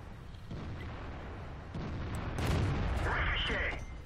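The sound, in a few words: shell ricochet off a tank in the video game World of Tanks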